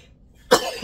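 A single sharp cough bursts out close by after a stretch of near silence, leaving a brief rough tail behind it.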